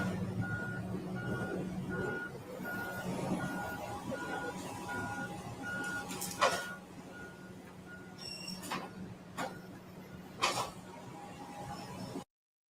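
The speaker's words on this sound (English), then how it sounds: "The garbage truck." Garbage truck backing up, its reversing alarm beeping steadily at a distance under engine rumble, with a few clanks and bangs toward the end.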